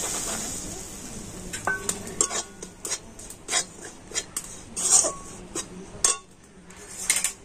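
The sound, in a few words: rice flour stirred and sizzling in ghee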